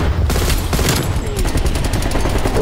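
Rapid automatic gunfire from the video game Call of Duty: Black Ops Cold War, loud and continuous, with dense bursts of shots rattling throughout.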